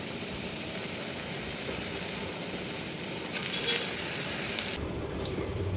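Rice roasting in a cooker for ghee rice gives a constant close, hissy sizzle, with a brief clatter of a utensil against the pot near the end.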